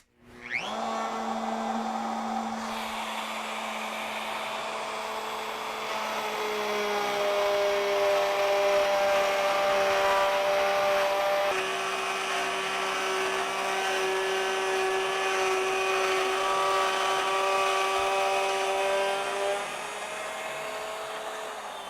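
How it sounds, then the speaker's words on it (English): An electric plunge router runs steadily while cutting into wooden stock as it is fed along an x-axis screw, a loud, close, sustained high-pitched whine that starts abruptly and holds with slight shifts in pitch throughout. "We'll go ahead, turn the router on, and plunge down the full depth"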